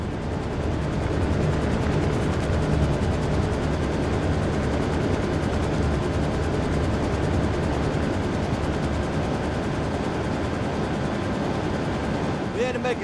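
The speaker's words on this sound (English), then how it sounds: "we are aboard the extraction chopper and inbound to Bob Viper" An extraction helicopter in Operation Flashpoint: Red River gives a steady, loud, droning rumble that runs unbroken throughout, with scattered deeper booms beneath it.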